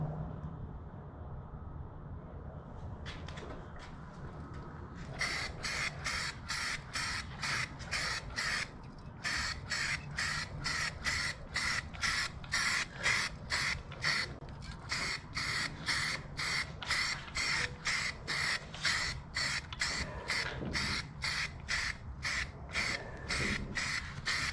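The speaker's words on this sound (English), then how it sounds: "I'm gonna spray over these little spots." A spray paint can fires rapid, evenly spaced short hisses while painting the engine bay of a 2000 Acura Integra DC4, the rhythmic bursts close and loud after a brief quieter start.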